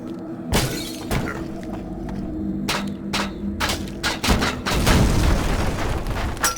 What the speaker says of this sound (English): Man, that's a nice explosion.